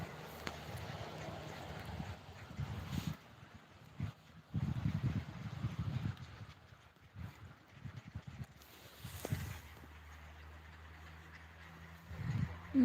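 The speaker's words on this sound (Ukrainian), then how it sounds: "якісь збори у качечок." Ducks quack in scattered bursts at a moderate distance, with a steady outdoor hiss and a few quieter gaps between the calls.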